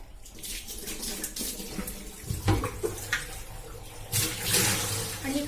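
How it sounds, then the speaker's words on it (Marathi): Water pours and splashes into a clay water pot, a close, continuous gushing that swells louder toward the end. "हे मी आता ठेवते आणि यात पाणी भरून ठेवते"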